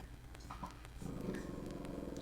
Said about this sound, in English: And one of my dogs is growling at us in the background.